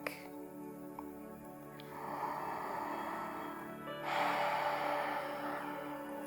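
Slow, deep yoga breaths during a gentle vinyasa flow, two long airy inhales or exhales swelling close to the microphone, with no speech.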